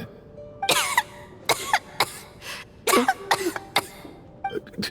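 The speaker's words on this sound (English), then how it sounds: "How long have you had that cough, Tonya?" A character in Genshin Impact coughs in several harsh bursts, some clustered together, with a faint throat-clearing sound between them in a quiet room.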